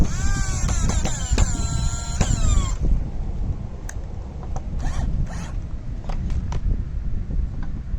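A cordless screwdriver drives a screw while a 12-inch vinyl roll feeder is built, its motor whining and rising in pitch for a few seconds, then leaving scattered clicks and light handling noises.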